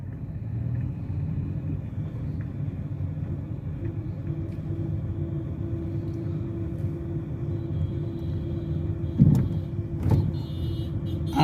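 During a driving lesson, a car pulls away in first gear with a low, steady engine rumble and a couple of brief knocks near the end.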